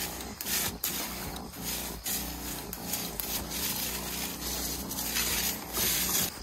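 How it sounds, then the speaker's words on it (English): A steady close hiss of water spraying onto dahlia plants, broken by brief rustles and soft knocks, with no talking. "I'm walking through the dahlias and spraying them real quick."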